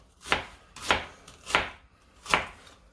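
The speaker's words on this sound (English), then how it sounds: "I'm just going to give it a couple of chops." A knife chopping leeks on a cutting board for potato-leek soup: four evenly spaced, crisp thuds, close and clear against a quiet kitchen.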